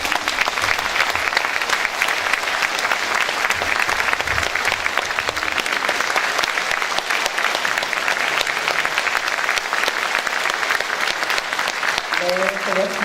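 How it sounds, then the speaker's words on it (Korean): Sustained applause fills a crowd at the inauguration ceremony of the governor of Jeollabuk-do, a steady loud clapping throughout with a host's voice speaking over it. "다시 한번 힘찬 박수 부탁드립니다"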